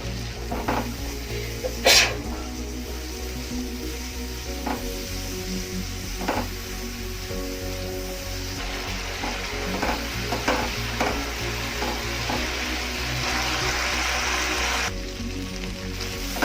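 Spice paste for a katla fish-head and papaya curry sizzles steadily in a pan while being stirred, with intermittent spatula scrapes and taps over a low background hum.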